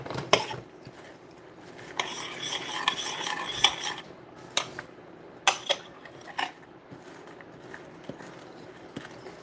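Stir fry vegetables being stirred in a pan in a home kitchen, heard as close utensil scraping and clinking with sharp metallic clacks in uneven bursts, no talking.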